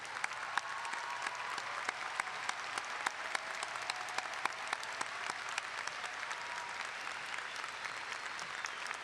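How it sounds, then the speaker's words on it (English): A large crowd at a 2011 high school graduation ceremony gives the teachers a sustained ovation, steady even applause with sharp individual claps popping out, heard from a distance throughout. "I'd like to now ask just all the teachers here seated at the rows to please stand for a very large ovation from this crowd"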